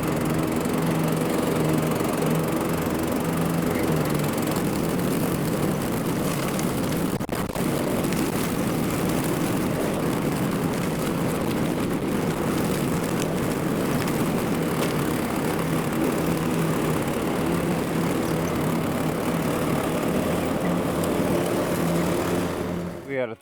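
A riding lawn mower cuts the grass of a backyard disc golf course fairway, its engine droning loud and close in an unbroken, steady roar that cuts off abruptly at the end.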